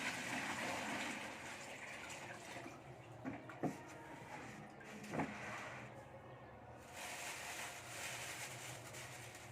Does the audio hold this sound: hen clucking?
no